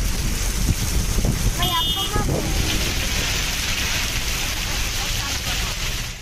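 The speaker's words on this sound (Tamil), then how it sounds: "திடீரென பலத்த காற்றுடன் கூடிய கனமழை பெய்தது" Heavy rain driven by strong wind in Coimbatore makes a steady, loud, hissing roar that runs unbroken throughout, with gusty buffeting and a few faint higher sounds early on.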